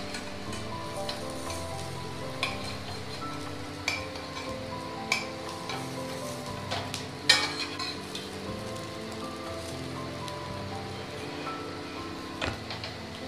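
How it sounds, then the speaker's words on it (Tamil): A snack toasts in a pan after being flipped, giving a steady quiet sizzle with scattered light clinks and taps of a utensil against the pan, and no talk. "நம்ம பொறுமையாக ரெண்டு பக்கமும் டோஸ்ட் பண்ணி எடுத்துக்கலாம்."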